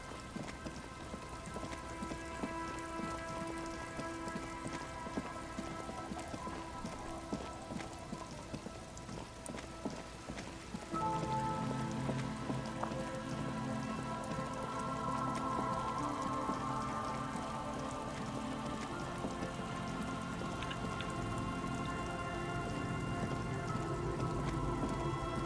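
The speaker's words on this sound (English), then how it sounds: "It's getting late, and it's raining." Steady rain pattering on surfaces in the video game Disco Elysium, a dense continuous hiss that grows heavier and fuller about halfway through, with faint musical tones underneath and no talking.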